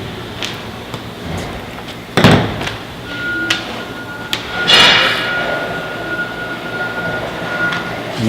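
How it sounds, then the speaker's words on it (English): Hammering rivets into a Tufway panel during assembly gives a few sharp metallic strikes spaced irregularly, loud and close, with a faint tonal ring and low background noise between hits. "get a pick in there and start putting your rivets down the side."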